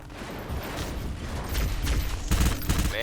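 Gunfire in the Halo video game during a squad firefight, a dense barrage of shots rattling continuously and growing heavier toward the end, with a dull rumble underneath.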